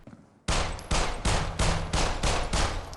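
Gunfire in a multiplayer shooter game, about seven loud, evenly spaced shots in quick succession with short tails, close and alone after a brief quiet start.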